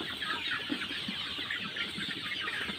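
Sonali and deshi chickens in a coop in winter, some with colds, cluck continuously in dense, overlapping close-up calls with no talk.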